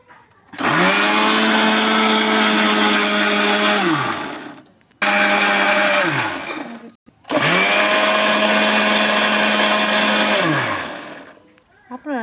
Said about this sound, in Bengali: তো আমি এখন ব্লেন্ড করে নিচ্ছি